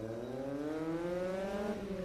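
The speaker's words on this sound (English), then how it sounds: "Dale Arbogast is out there in the number 32 Corvette." Number 32 Corvette race car at a Daytona solo autocross event, its engine revving with rising then falling pitch, moderately distant and steady, no talk.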